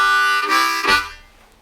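A C harmonica played in second position in a simple chugging pattern: one breathy, reedy chord that swells twice and then fades, close and alone.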